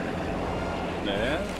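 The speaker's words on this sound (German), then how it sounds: "Boah, ist das Boot laut." In the video game Left 4 Dead 2, a boat engine drones loudly and steadily at close range, with a brief rising tone near the end.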